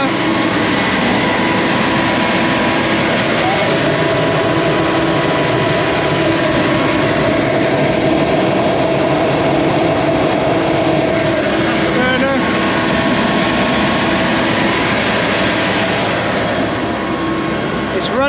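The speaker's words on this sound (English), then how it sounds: "Got to turn the burner on." A grain dryer's burner runs at night during harvest, with grain feeding into a hopper and auger. It makes a loud, steady roar that fills the whole stretch without a break.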